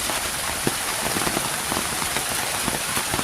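Steady rain falls outside a hut, a dense continuous hiss with scattered sharper drops pattering on a surface, even and close throughout with no talk.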